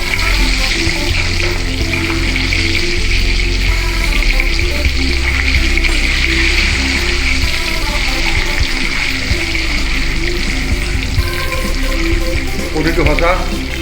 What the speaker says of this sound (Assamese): কণীটো ভাজি আছে এতিয়া